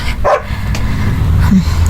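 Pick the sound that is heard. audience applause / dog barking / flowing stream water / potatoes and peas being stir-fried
dog barking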